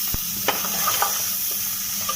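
Pork with ginger and garlic, in a village-style dry fry, sizzles steadily in hot oil while a spoon stirs it, with a few sharp scrapes and clicks over the hiss and no talking.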